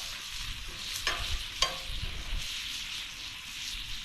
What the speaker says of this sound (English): Don't you love the sound of bacon when it's sizzling?